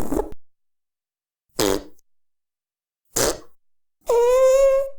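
Four cartoonish fart noises from Fart Cat in the cat video game Catlateral Damage, three short blurts with pauses between them, then a longer, tonal, buzzing one that trails off, loud and isolated.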